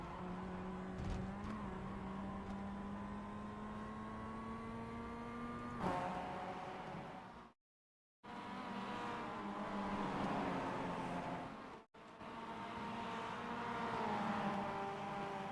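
Mazda MX-5 race car engines in the iRacing sim racing game on the Charlotte Roval, droning loudly and steadily. The pitch drops at gear shifts, and the sound cuts out briefly twice.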